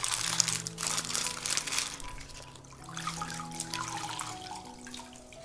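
Crumpled baking paper is crinkled and wetted under running tap water at a sink, a steady papery rustle over flowing water lasting several seconds, fairly close, with no talk.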